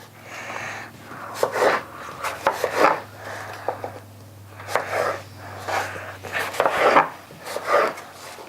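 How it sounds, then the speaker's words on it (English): A knife cuts fruit into small bite-sized slices on a board, giving repeated close chopping strokes in uneven bursts with a steady low hum underneath. "So now we're just going to cut these pieces just small like this."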